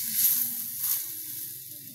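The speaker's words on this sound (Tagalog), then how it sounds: "At magluluto tayo na walang mantika. Talong. Magluluto tayo." Eggplant cooking without oil on a banana leaf gives a soft, steady sizzle with a faint hiss close by, a couple of slightly brighter crackling swells, then holds level with no voices.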